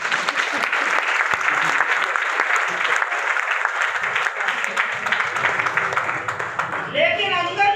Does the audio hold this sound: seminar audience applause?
yes